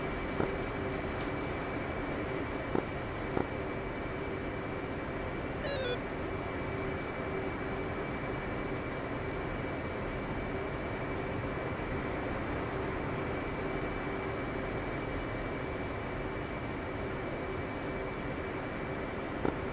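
A jet aircraft taxiing in the DCS World flight simulator, a steady, moderate engine whine and broadband roar holding level throughout, with a few faint clicks and no talk.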